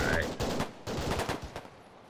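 Bursts of gunfire, a quick series of sharp shots clustered in short volleys, loud and fairly close, with some background noise between them.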